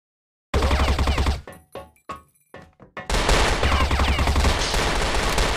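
Rapid gunfire from a tactical shooter video game, one continuous burst at the start, then several short separated shots, then a loud sustained barrage to the end.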